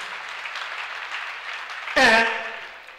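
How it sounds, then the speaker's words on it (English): A church congregation claps together for Jesus in a steady, dense wash of applause. A voice or sung tone cuts in briefly near the end before the clapping fades. "Clap on for Jesus, everybody."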